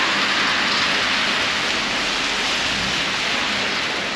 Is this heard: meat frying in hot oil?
no